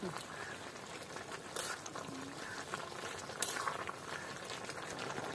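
Half-ripe jackfruit curry bubbles in a pot with a steady, soft boiling burble. A lid rattles faintly partway through.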